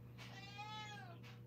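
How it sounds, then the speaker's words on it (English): A cat gives a single drawn-out meow, faint against a steady low hum with no voices. "Oh my gosh, my cat is here."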